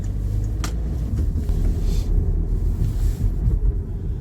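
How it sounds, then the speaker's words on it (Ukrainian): A car drives through a city, its steady low engine and road rumble filling the whole stretch with some wind buffeting at the microphone; no one speaks. "Все, я от їду по місту"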